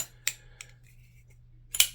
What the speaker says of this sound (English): that button stick, when you click it, does make a nice ring